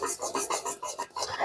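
Puffed rice dough being stirred in a pan for murir pitha, giving a close, rhythmic scraping and rasping sound with steady repeated strokes.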